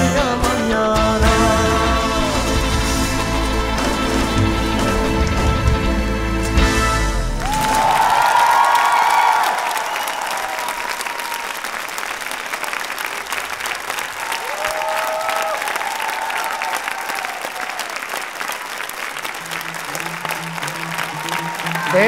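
Sustained audience applause at a national singing gala concert in Armenia, a dense, steady clatter of many hands that sweeps in loud after a song ends and continues at an even level.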